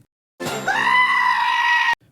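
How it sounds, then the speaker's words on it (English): A goat screams in a cartoon episode, one long, loud, bleating wail that rises in pitch and holds steady for over a second before cutting off abruptly. "Many people hate this goat screaming sound, but I'm not in that bandwagon."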